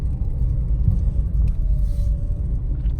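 A single car rumbles past on a deserted rural road, a low steady roar that swells and fades within a few seconds.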